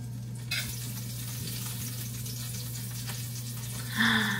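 Cooking oil sizzles softly and steadily in a pan throughout, joined by a brief splash and a louder burst of spattering near the end.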